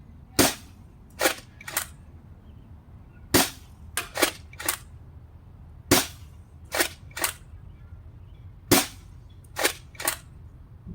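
Nerf Nexus Pro blaster firing darts at a 100-foot range, a dozen sharp snapping shots spaced in small bursts of two or three with brief quiet gaps between, loud and close against faint outdoor background.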